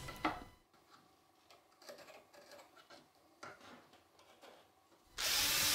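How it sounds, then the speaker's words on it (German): A metal pin scribes marking lines along a square onto dark film-faced plywood, making a few faint, brief scratching strokes in a quiet room before a sudden loud burst of noise at the very end. "mit einem Winkel und einem Metallstift auf der dunklen Siebdruckplatte anzeichnen"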